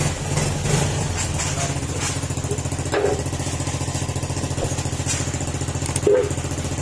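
Yamaha Aerox 155 scooter engine idling up close after repair of a rusted chassis, a steady, loud, rapid putter with a couple of brief throttle blips, no voices over it.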